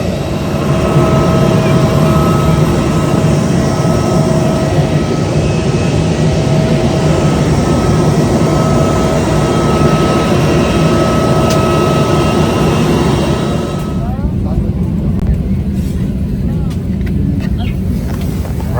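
A passenger plane cabin before takeoff on a flight from Nepal to India, filled with a loud, steady engine and air-system roar that continues throughout and drops slightly in the final seconds.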